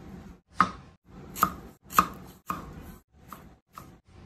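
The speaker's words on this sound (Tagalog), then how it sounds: "maghihiwa muna tayo ng ating mga vegetable" A knife chops a white onion on a cutting board in seven distinct, evenly spaced strikes, crisp and close, with no talking.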